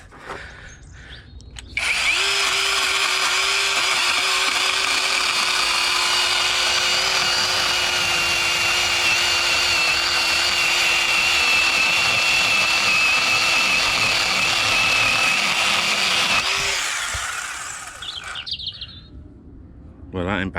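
A Goldsea 21V cordless electric 8-inch chainsaw cuts through a log with a loud, steady high-pitched whine that runs continuously for about fifteen seconds, then winds down, with no talking over it.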